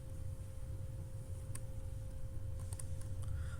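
Quiet typing on a computer keyboard while entering an Excel formula, a few sparse key clicks over a steady low hum, close but faint.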